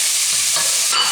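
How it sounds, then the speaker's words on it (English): Minced lamb fries with softened onions in a pan for a moussaka, a steady close hiss of sizzling fat with a brief stir-like rustle near the end, no talking. "I'm going to fry this until it's a nice golden brown colour now"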